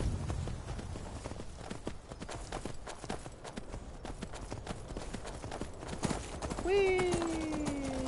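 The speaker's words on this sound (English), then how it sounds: "Okay, I'm not gonna need the horse anymore." A horse's hooves clip-clop in a steady rhythm through the Skyrim video game, with a voice talking over them and a brief cheerful exclamation near the end.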